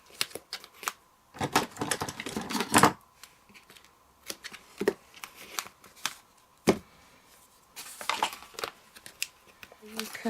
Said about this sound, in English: Close the card and run some double-sided tape